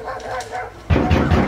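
Dogs bark a few times indoors, close and fairly loud, with whimpering yips mixed in and a voice speaking partly over them.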